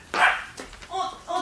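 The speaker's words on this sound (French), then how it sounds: "Enfermez le chien, voulez-vous, André?" A dog barks indoors in an old French mystery drama: a few sharp, close barks and yips with short pauses between them, over a faint room hiss.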